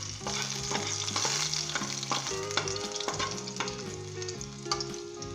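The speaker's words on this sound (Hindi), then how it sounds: "और इसे लाइट ब्राउन होने तक भूनेंगे हम इसे।" Garlic frying in a pan for a Punjabi white brinjal masala, a steady close sizzle with repeated stirring scrapes, while melodic background music plays throughout.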